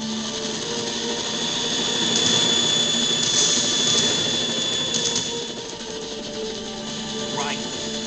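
Harrier jet engine roaring steadily throughout a Metal Gear Solid 2 battle scene, a loud sustained whine and rumble that swells in the middle and then eases slightly.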